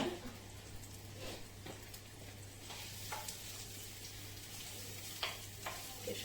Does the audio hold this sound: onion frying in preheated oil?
yes